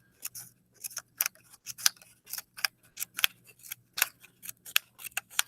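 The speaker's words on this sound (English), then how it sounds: "I just take my scissors and I make short little cuts all along the edge" Scissors snip short cuts along the edge of a paper strip for a kindergarten art project, a brisk, uneven run of crisp close clicks over about five seconds, with no talking.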